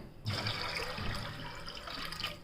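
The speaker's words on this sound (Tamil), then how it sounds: "தண்ணி ஊற வச்சு தண்ணி இன்னும் கொஞ்சம் தண்ணி ஊற்றிட்டு" Water pours onto soaked dried peas in a home kitchen while a kurma is being prepared. It starts after a brief pause and continues as a soft, even splashing stream, faint and close.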